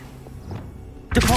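Levioso levitation spell cast in the Hogwarts Legacy video game: a low, quiet rumble gives way to a sudden bright, shimmering magical burst with ringing tones near the end.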